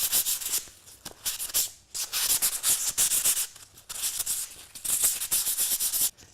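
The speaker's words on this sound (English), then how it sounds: "take 2 pieces of 320, rub them together to sort of remove some of that grit" Two sheets of 320 grit sandpaper are rubbed against each other in steady back-and-forth strokes, a close, hissy scratching that comes in bursts with brief pauses and no voices.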